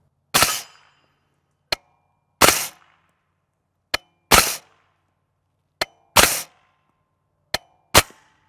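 A suppressed MK57 Banshee pistol with an 8-inch barrel fires Fiocchi 5.7x28mm 62-grain FMJ subsonic rounds: five sharp, close shots spaced about two seconds apart, each followed by a fainter metallic clack, with no voices.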